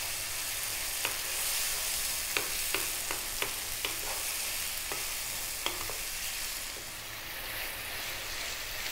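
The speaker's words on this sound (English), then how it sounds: "We really wanna cook these tomatoes down now." Tomatoes cook down in a pan for a tomato curry, giving a soft, steady sizzle close by, punctuated by several sharp spoon taps and scrapes against the pan.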